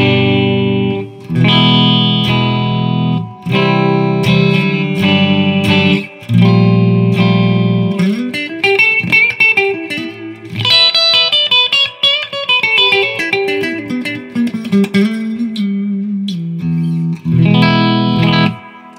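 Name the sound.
Latitude Cardinal headless electric guitar, middle pickup position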